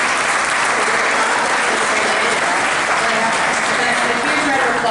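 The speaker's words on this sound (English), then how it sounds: "how about a round of applause to Jennifer for being our co-moderator this week?" A dense, loud wash of audience applause fills the whole stretch at a cannabis industry conference panel, steady and continuous with no pauses.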